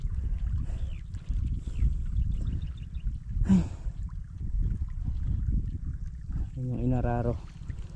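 Irrigation water runs to plants in a field, a steady low rushing flow heard close up, while someone speaks briefly over it.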